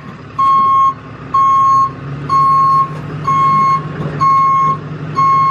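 An auto loader tow truck backing up gives a loud, evenly spaced series of about six electronic reversing beeps, each holding for roughly half a second, over a low diesel engine rumble.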